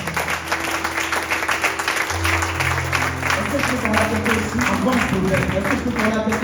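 A church congregation applauds and cheers for the Lord, dense steady clapping from a large crowd filling the room, with sustained organ or keyboard tones underneath throughout.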